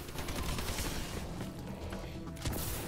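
Dense, continuous automatic turret gunfire from the Exo Zombies mode of Call of Duty: Advanced Warfare on the Descent map, rapid overlapping shots and thuds with no gaps.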